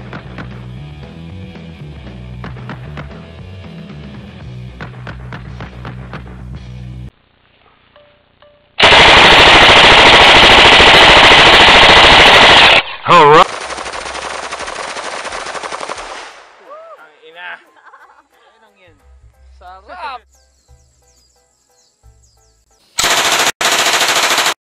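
Thompson submachine gun, the Tommy gun, firing .45 caliber rounds from a 50-round drum at a slow rate, heard as loud sustained bursts of automatic fire with short gaps and a final burst at the end, following a stretch of quieter sounds.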